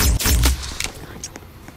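Gunfire in a Roblox game comes as a loud, close cluster of quick blasts at the start, then fades into a few fainter pops and clicks.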